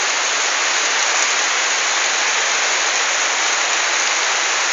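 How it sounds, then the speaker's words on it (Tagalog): Heavy rain pours down in a coconut grove during Typhoon Falcon in Bauan, Batangas, a loud, dense and unbroken roar of water hitting foliage and the ground, with no voices. "Ito po, malakas po ulan."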